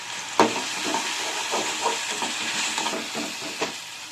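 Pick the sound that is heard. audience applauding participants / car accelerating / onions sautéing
onions sautéing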